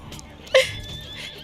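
A horse gives one brief, fairly close whinny with a sharp onset, fading quickly over low background noise.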